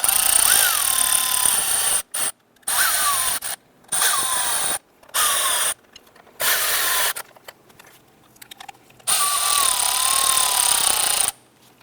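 Powered driver running valve cover bolts down on a 2007-2012 Nissan Versa engine, several loud whirring bursts of a second or two each separated by short silent gaps, close up with no talk.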